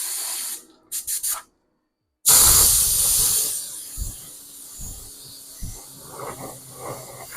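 An aerosol spray can hisses as paint goes onto a Kyosho Scorpion RC car body, one long close spray burst after a few short clicks, trailing off into quieter handling noises.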